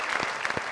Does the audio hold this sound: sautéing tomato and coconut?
no